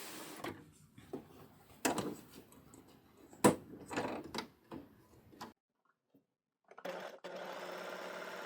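An overlocker, or serger, running on lightweight fabric after its tension was turned down: short motor bursts of rapid needle ticking, separated by pauses, then one longer steady run near the end.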